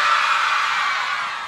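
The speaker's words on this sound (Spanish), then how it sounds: "Ese grito bien fuerte de todas las solteras de Betano." Women in a cumbia concert crowd scream together loudly in a bright, sustained burst that fades slightly at the end.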